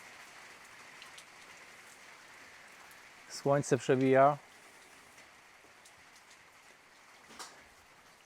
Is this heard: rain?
yes